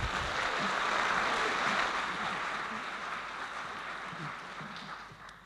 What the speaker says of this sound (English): Can we please give a big round of applause to David Travis?